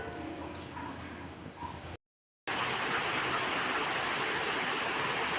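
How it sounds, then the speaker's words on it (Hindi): Heavy rain starts suddenly at a home during the monsoon season. A softer wash with faint voices gives way after a brief gap to a loud, dense, steady hiss of downpour. "इतनी तेज़ बारिश आ गई अचानक से"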